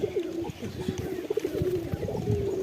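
Teddy and Andra breed pigeons kept for sale at a house coo continuously in low, rolling calls close by, with people talking over them.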